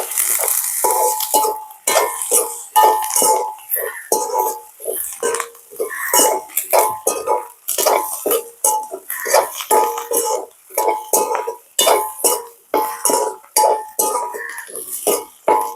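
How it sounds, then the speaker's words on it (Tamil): Fennel seeds and fenugreek being sautéed in a cooking pan for a crab curry, with a utensil repeatedly scraping and clinking against the pan in an uneven, busy rhythm. The sound is close and fairly loud, with no talking. "பெருஞ்சீரகம் கொஞ்சமாக போடுவோம் வடிவாக வதக்கி கொள்வோம்"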